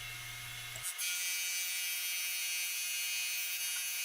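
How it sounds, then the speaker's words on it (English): A board sander runs steadily while sanding walnut guitar side panels, a loud continuous whir after a short low hum at the start, with no talking. "I'm sanding both sides of the walnut panels. I'm sanding off about 3/1000 of an inch with each pass through the board sander"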